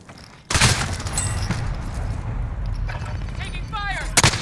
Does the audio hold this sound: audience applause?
no